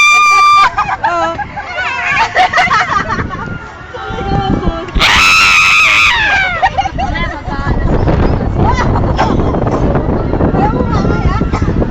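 A group of riders scream together on an amusement ride in one loud, sharp burst. Wind noise and excited chatter surround the scream.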